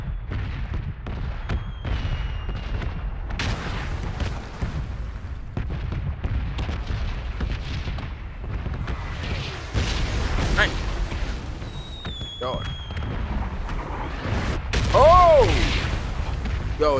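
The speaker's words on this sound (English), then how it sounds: "Like, I'm blowing stuff up for real." Explosions and booming gunfire in the battle-royale game PUBG rumble continuously, with heavy low blasts and crackling bursts throughout, while someone talks excitedly over them.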